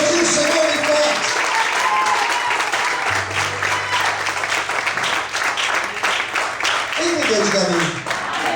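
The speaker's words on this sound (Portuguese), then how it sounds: "Você pode aplaudir o Senhor em paz" A church congregation applauds in praise during an evening service, dense sustained clapping filling the room for several seconds, with a low steady tone running beneath and voices briefly rising near the end.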